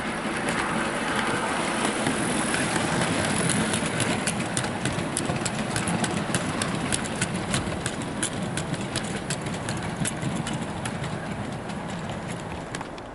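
A Hornby Class 60 model diesel locomotive in Mainline livery runs along the track pulling wagons, a steady whirring motor hum with rapid light clicking of wheels over rail joints, fairly quiet and continuous.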